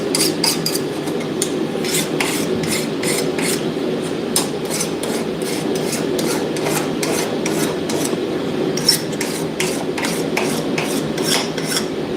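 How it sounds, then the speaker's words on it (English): A blacksmith hot rasping a forged knife blade, the rasp grating in steady, evenly spaced strokes that sound close and loud, with no talking. "hot rasping does leave a burr, but that's easy to remove with a file"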